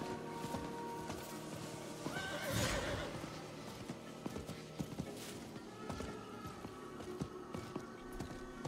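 A horse mount in Diablo 4 neighing loudly, with clip-clop hoofbeats and game ambience running throughout, close and steady, the whinny peaking around the middle.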